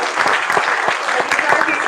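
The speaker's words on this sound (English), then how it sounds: "One more applause" Audience applause at a school board of education meeting, a steady burst of clapping from a crowd in a hall, with a voice speaking over it.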